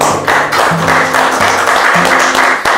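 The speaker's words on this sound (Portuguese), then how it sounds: "Palmas todos, por favor." Audience applause at the close of a spiritist talk on a podcast, a steady wash of clapping from start to finish with a tonal backing underneath and no speech.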